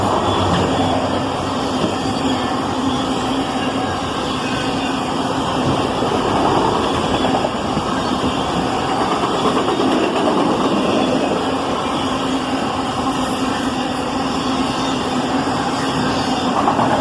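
A CSX freight train of mostly empty autoracks, hauled by Indiana and Ohio locomotives, rolls past as a loud, steady, unbroken rumble and rail roar that holds at an even level throughout, with no voices.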